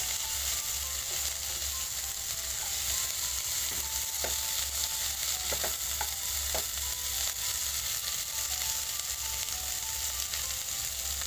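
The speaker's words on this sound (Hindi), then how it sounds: "थोड़ी देर चलाकर अच्छी तरीके से तल लेंगे फ्लेम को हाई रखेंगे" Cauliflower sabzi frying over a high flame: a steady, dense sizzle with crackling pops runs throughout, plus occasional scraping and clinking from stirring in the pan, close and with no voices.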